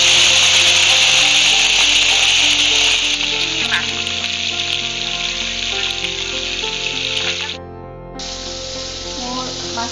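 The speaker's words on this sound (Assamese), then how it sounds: "তেলখিনি গৰম হৈ গৈছে আৰু এতিয়া দি দিম মই ইয়াত মাছখিনি।" Fish sizzle and crackle in hot oil in a home kitchen, a loud continuous frying hiss that drops briefly near the end before resuming, with faint clinks of cookware underneath.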